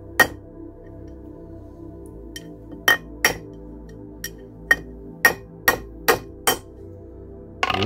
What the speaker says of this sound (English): we can just gently tap that in